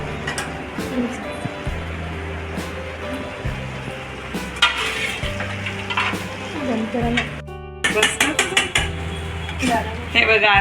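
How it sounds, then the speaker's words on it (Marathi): Hakka noodles tossed with vegetables and masala in a small, overfilled kadhai, with loud stir-fry sizzle and frequent clanks of a utensil scraping the metal. A few voices and some tonal background sound run underneath. "कढई थोडी लहान आहे आणि नूडल्स जास्त झालेत, तरी हळूहळू परतून घ्यायचं"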